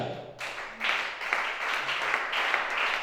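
Church congregation applauding during a worship service, a steady wash of many hands clapping at moderate distance for about three seconds, with a few louder claps standing out.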